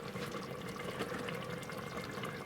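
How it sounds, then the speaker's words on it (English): Water pours into a pot of salsa chili in a steady, close, continuous splashing stream lasting a couple of seconds, with no talking. "We're gonna add the water."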